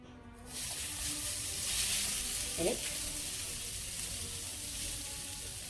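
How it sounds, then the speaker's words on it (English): Shirataki noodles hitting a hot non-stick pan, a sudden loud sizzle that builds into a steady hiss with light crackle and a brief squeak of movement, continuing alone. "So the pan is nice and hot. Put our noodles on it."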